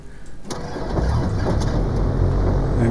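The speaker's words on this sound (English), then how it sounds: "So if we start this engine" Simulated aircraft engine starting in X-Plane 12, a short click followed by a rising low rumble that settles into a steady idle drone, moderately loud and without voices.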